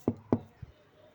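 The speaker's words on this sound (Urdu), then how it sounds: "بار آواز آ رہی تھی کہ دروازے پہ کوئی دستک ہو رہی ہے۔" Three knocks on a door: two firm, evenly spaced raps followed by a softer, duller third, close and isolated against quiet.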